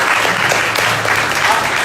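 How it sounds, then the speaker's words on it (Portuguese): An audience claps at a talk, filling the whole moment with dense, steady applause at close range. "Uma salva de palmas aí para o nosso time."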